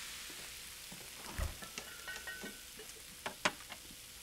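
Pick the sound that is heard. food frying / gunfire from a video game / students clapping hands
food frying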